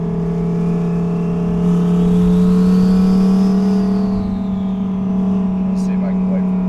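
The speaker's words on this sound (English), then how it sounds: "Let's see if I can wait for this car to get by." A car drives past during a ride in an Audi R8 twin turbo, its engine swelling and fading behind a steady in-cabin engine drone, with people talking over it.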